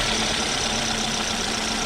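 A Chevrolet engine running steadily with a loud metallic chain rattle, a continuous dense clatter at even volume throughout, close up and without any talk.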